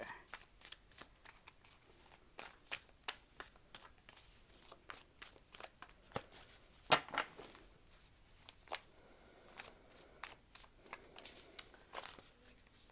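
A deck of oracle cards is shuffled by hand in steady, repeated riffles and flicks, crisp and close for the whole stretch, with one louder snap in the middle and no voices.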